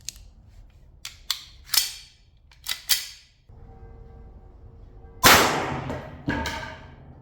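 A blank gun fires 4.5mm steel BB rounds sealed with wax into a row of five boards, giving several sharp, loud cracks and snaps spaced apart, then a humming pause before two heavier, ringing bangs close by.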